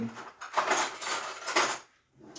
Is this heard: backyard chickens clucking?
no